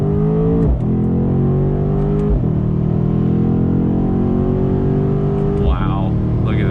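A 2019 Mercedes-AMG C63 S convertible pulls hard on throttle out of a bend, its engine note climbing loud and steady and dropping briefly at quick gear shifts, with the engine sound filling the whole stretch.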